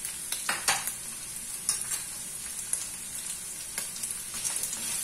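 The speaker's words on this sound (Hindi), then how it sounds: "तमाम चीजों को थोड़ा सा अच्छे से मिक्स कर लेंगे" Green chili, carrot and capsicum stirred in a pan for Chinese-style chicken egg fried rice, a steady high sizzle broken by several scraping strokes of the spatula, fairly quiet and with no talk.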